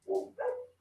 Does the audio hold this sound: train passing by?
no